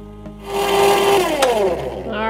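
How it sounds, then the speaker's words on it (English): A countertop ice cream machine with its churn paddle fitted starts up to mix lemon ice cream, giving a steady, loud motor whir with shifting pitch and a short rising whine partway through. "Let me put in my churn piece there, turn it on, and then we're gonna mix this until it's thickened up"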